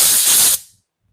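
Compressed air blasts into the screw holes of a Stihl MS 500i chainsaw during a rebuild, a loud close hiss that holds steady for about half a second before cutting off and fading to silence.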